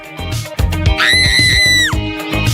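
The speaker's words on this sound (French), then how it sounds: "Et on attend avec plaisir les cris de terreur." A single high, sustained scream of terror, loud and close, rising out of a busy musical background with rhythmic low beats, lasting about a second before dropping off.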